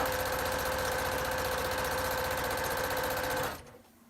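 A sewing machine runs fast while stitching fabric borders, a close, steady whirring hum with rapid needle chatter that stops abruptly near the end, leaving quiet room tone.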